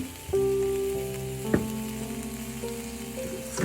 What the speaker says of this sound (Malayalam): നമുക്ക് നന്നായിട്ട് ഇളക്കി മസാല മിക്സ് റെഡി ആയിട്ടുണ്ട്.